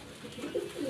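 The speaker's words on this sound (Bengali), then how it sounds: "এটা হচ্ছে একজোড়া চুইনা কবুতর।" A pair of Chuina pigeons at a loft coo softly, with low, rounded calls that repeat and swell toward the end of the moment. They sit close by against a faint background.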